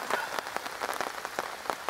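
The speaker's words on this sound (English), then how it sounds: "Well, the rain that was predicted for this afternoon has finally come." Rain patters steadily on a surface outdoors at a prepper meet, a soft, dense hiss of drops with scattered sharper taps, fairly close and alone without talk.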